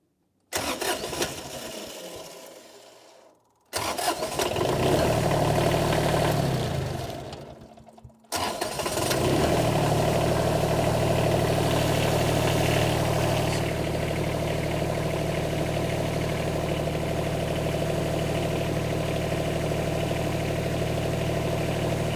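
A small wheel loader's engine cranks, catches and then settles into a steady, loud idle, with a couple of brief starting attempts and pauses before it keeps running.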